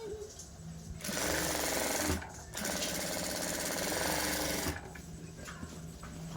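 A sewing machine stitching dummy dot stitches on a blouse runs in long, loud continuous bursts with a brief stop between them, its fast needle rattle steady and close.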